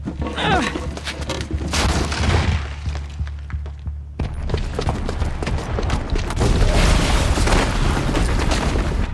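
A booby-trapped bomb going off in Horizon Zero Dawn: heavy booming rumble and scattered debris thuds, a sharp drop to near silence, then a loud, sustained blast-and-rubble roar that builds toward the end.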